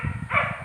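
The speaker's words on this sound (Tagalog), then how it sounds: "Naku, tumahol pa yung aso." A dog barks several times in quick succession at moderate distance, short rhythmic yaps with a brief higher cry in the middle.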